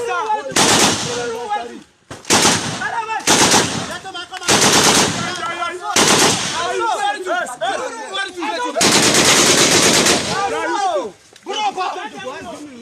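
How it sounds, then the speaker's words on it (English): Nigerian soldiers fire sporadically into a residential area, with loud bursts of automatic gunfire separated by short pauses and excited voices shouting between and under the shots. "That was Nigeria military officers shooting sporadically at residential areas."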